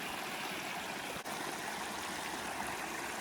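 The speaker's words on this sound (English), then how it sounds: "you can listen to the sound of the water as it flows" Water flowing steadily in a stream near a waterfall at Bluff Springs, New Mexico, a continuous broadband rush with no talk and one brief dip partway through.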